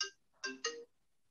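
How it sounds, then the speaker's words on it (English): A phone rings in a quiet room, a short electronic chime in three quick bursts, moderately close and heard alone without talk. "I was interrupted by a phone."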